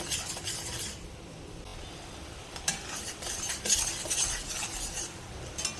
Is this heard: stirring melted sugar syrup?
yes